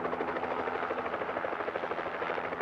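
A helicopter carrying shooting victims to Via Christi St. Francis hospital in Wichita gives off a steady, loud rotor thrum and engine whine, heard alone without voices.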